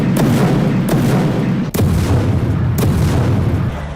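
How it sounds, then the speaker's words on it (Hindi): Explosions from a military bombardment of Gaza: several loud, heavy booms roughly a second apart, each a sharp blast rolling into a deep rumble, over continuous low background noise. "गाजा पर बारूदी प्रहार कर रही है।"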